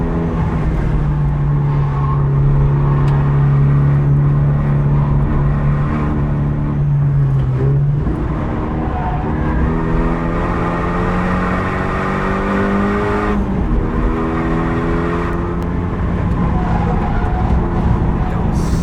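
A Renault Megane R26 lapping the Nürburgring, its engine loud and close from inside the cabin, climbing and dropping in pitch through repeated gear changes as it accelerates and brakes, no talking.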